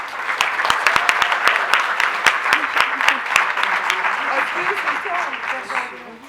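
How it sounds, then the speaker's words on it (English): Audience applause at a school board meeting honoring Student of the Month winners, sharp individual claps at first blending into a thinner ovation, with voices talking over the later part. "Please give another round of applause to our Student of the Month winners."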